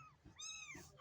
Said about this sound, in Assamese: এইটো আমাৰ মেকুৰী পোৱালি ন?